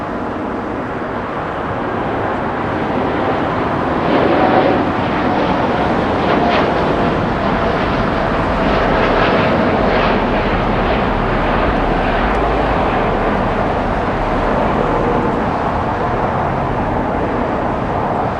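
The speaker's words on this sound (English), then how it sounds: "American Airlines heading off to Miami today." An American Airlines jet airliner takes off from Los Angeles for Miami, its rumbling roar swelling gradually and holding steady throughout, with no voices.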